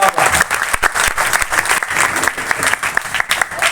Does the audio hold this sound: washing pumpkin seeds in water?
no